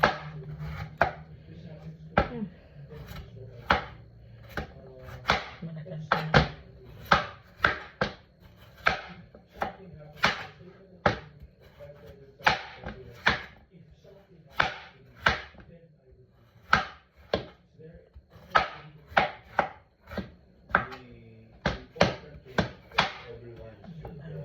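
A knife chops radish repeatedly on a cutting board, sharp thuds in quick irregular bursts, close and loud, with a brief spoken remark between cuts.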